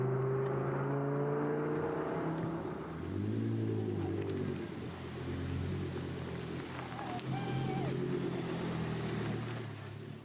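Lamborghini engine running close and loud, revving up and down in swells with a throaty drone, a brief voice heard faintly in the background.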